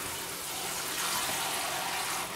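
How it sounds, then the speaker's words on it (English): Goya beans are rinsed under a running kitchen tap, a steady, close rush of water that flows without a break and without talk. "So we're gonna go ahead and rinse that out."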